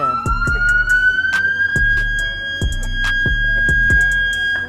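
A loud police siren wails steadily up close, its high tone holding while sharp clicks and thumps repeat underneath.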